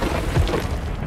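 A single deep boom from an explosion in a cartoon monster truck race, a short low thud that quickly fades into a dull rumble.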